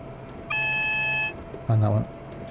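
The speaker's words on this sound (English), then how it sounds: "shut that alarm up" Cab alarm in a Class 360 electric multiple unit in Train Sim 19, on the Greater Anglia London–Ipswich line: a steady high electronic beep tone sounds for under a second, then a brief louder buzzing tone follows in the rain-soaked cab.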